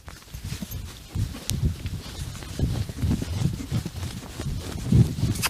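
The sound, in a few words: horse trotting hooves on ride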